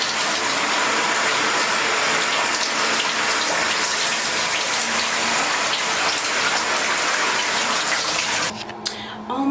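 Running water pours in a loud, constant hiss, like a shower or tap, while someone goes under it wearing strip lashes. It stays steady and close, then cuts off abruptly near the end.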